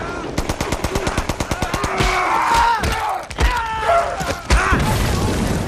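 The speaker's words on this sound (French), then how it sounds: "12 minutes de bruit de balles, d'explosifs" War film Hacksaw Ridge battle: a rapid burst of machine-gun fire in an even rhythm, then heavy explosions and chaotic gunfire with thuds and shouting voices, loud and dense throughout.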